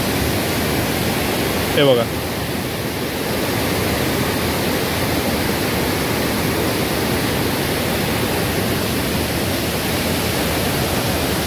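A stream near a temple in Konkan pours with strong force, a loud, steady broadband roar filling the whole stretch, with a brief spoken phrase near the start.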